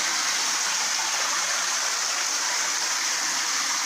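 Shower water running steadily from the tap, a continuous broad hiss like a stream, close and moderately loud, with no talking.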